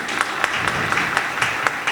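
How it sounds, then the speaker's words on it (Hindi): An audience applauds at a public gathering in honour of the nation's heroines, a steady dense wash of clapping with no voices over it. "एक देश की वीरांगनाओं के लिए एक बार तालियां बजा दीजिए।"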